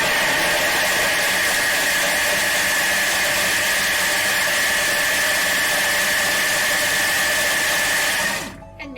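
A kitchen food processor blitzing lemon at speed 8, a loud, steady high-pitched whir running for about eight seconds before it cuts off abruptly.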